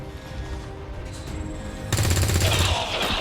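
A soldier fires a gunshot in XCOM 2, a sudden loud blast with a short rattling burst after a quieter lead-in of ambient game sound.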